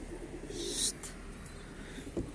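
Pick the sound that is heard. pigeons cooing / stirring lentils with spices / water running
pigeons cooing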